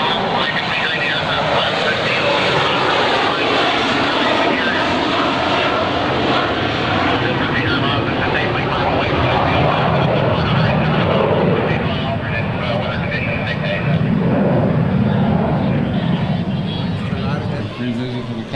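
Engines of a C-9B Skytrain transport jet at an airshow make a loud, continuous roar that holds steady throughout with only slight swells, heard up close and alone.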